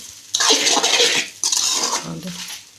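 Egg tomato pulao stirred in a pot, two bursts of scraping and clattering from a metal ladle against the pot, close and fairly loud with a brief pause between them.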